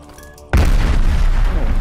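Loud explosion bursts in a zombie shooter game after a quiet moment, a sudden deep boom that rumbles and decays over the following second and more.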